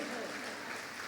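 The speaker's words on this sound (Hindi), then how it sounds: "ताली बजा दीजिए फिर।" An audience claps together at a worship ministry gathering, a dense and steady patter of applause that fills the space at moderate volume.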